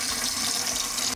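A kitchen tap runs steadily into a sink in a house under renovation, a loud, close, even hiss of flowing water that cuts off abruptly at the end.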